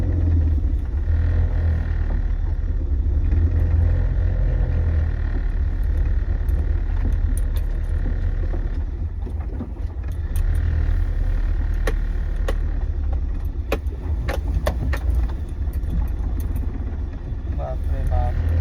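A car engine rumbles low and steady as the vehicle pulls slowly out of a garage after a cold start, the drone holding close and continuous with a few faint clicks and rattles on top.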